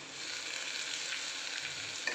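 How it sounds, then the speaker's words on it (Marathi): Chopped onion sautéing in a pan until reddish for a spicy masala kurdai dish, giving a steady close sizzle with a faint stirring clink near the end and no talking. "कांदा लालसर होईपर्यंत आपल्याला परतायचा आहे."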